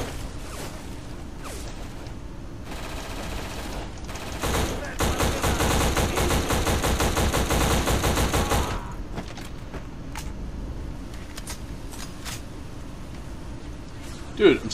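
Video game Black firefight: a sustained burst of rapid automatic gunfire for several seconds amid scattered single shots, with a voice talking over it.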